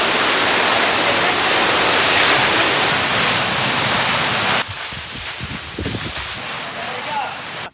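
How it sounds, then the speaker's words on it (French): A powerful waterfall roars at close range in the Australian outdoors, a loud, dense, steady rush that drops back partway through as voices speak over the continuing pour. "on est au plus près de la cascade"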